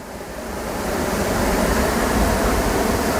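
Water rushes powerfully at Kallarkutty dam in rainy Idukki, a deep continuous roar that swells over the first second and then holds loud and steady without any talk.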